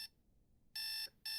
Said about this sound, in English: The alarm has gone off.